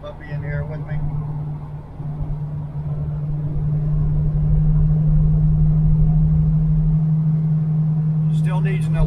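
Inside a restored 1968 Chevelle Nomad on the road, a constant low engine hum and tire rumble hold steady and grow slightly louder, with a person talking briefly at the start and end.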